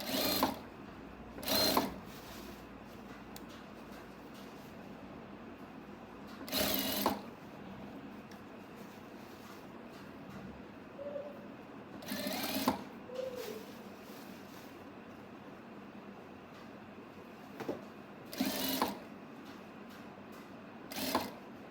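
Sewing machine stitching fabric with elastic for a telekung, heard as several short, sharp bursts of stitching spaced apart over a steady quiet background, with no talk.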